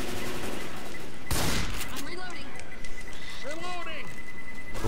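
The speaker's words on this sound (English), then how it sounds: "Oh, I've got a pipe bomb. I'll throw pipe bomb." A pipe bomb blasts in a Left 4 Dead 2 custom map: a sudden loud broadband explosion about a third of the way in, followed by scattered gunfire and zombie noises, with players talking over the game.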